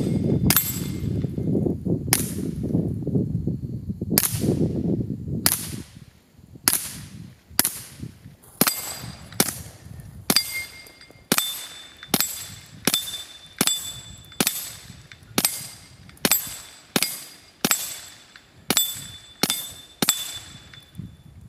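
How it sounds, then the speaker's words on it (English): A Taurus TX22 pistol fitted with a Thompson Zephyr-L silencer fires about twenty suppressed shots at a steady pace, each a sharp, fairly loud crack. The first few come over a low background rumble, and the rest ring out alone. "There you have it, Taurus TX22 with Thompson zephyr-l."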